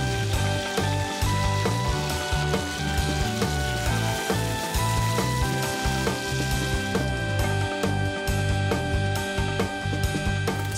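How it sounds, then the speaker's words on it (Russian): Lamb pieces frying in oil in a kazan, a steady, dense sizzle that holds at an even loudness throughout, close up with no talking. "Первая партия подрумянилась, значит, откладываем ее в сторону, а в казан вторую отправляем."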